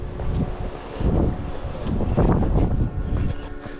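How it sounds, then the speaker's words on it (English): Strong gusts buffet the microphone on a mountain trail up Volcán Barú in Panama, a loud continuous rumbling roar that swells and eases in waves. "The wind feels nice when it kicks up."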